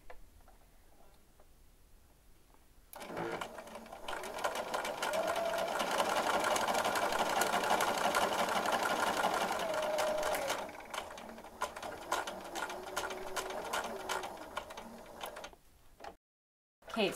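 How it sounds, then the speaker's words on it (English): A sewing machine runs a back stitch through fabric, its needle chattering in a steady rapid rhythm for about twelve seconds, close and fairly loud, with a brief slowdown partway before it stops. "I'm just going to sew that up really quick and show you"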